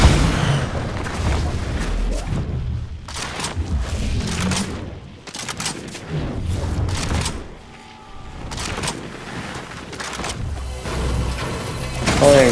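Cannon fire in the Fortnite video game, repeated heavy booms and crashing blasts in irregular bursts, loud and close, with rumbling in between.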